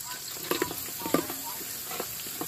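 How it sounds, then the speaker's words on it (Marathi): Onion frying in a pan with whole spices such as cinnamon, cardamom, bay leaf, peppercorns and cloves: a steady close sizzle with soft scraping and clinking from stirring. "कांदा आता चांगला लाल करून घेत आहे."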